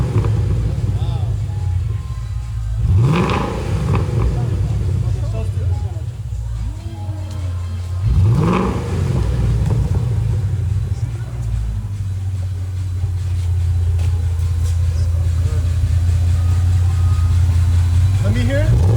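A 2013 Ford Mustang with Valvetronic exhaust idles with a deep steady rumble, punctuated by two sharp revs that swell and fall back, while people talk nearby.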